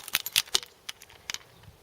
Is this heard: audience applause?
no